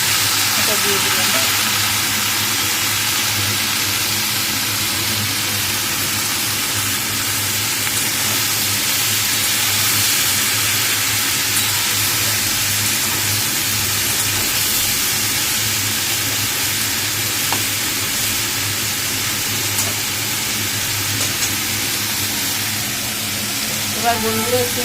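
Washed, cut ridge gourd pieces frying in hot oil in a pan, giving a loud, steady broadband sizzle and hiss that runs unbroken for the whole stretch.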